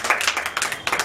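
Clapping from an audience at a Dr Ambedkar Rashtriya Ekta Manch gathering in Allahabad, a short burst of several hands clapping irregularly, moderately loud and close, with no talk over it.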